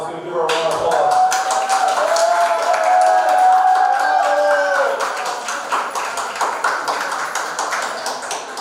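Audience at a South Asian and Indo-Caribbean Democratic Club candidate forum applauding Senate District 13 incumbent Senator Jessica Ramos, a crowd's steady clapping with a few cheers, mixed with ringing tones and voices.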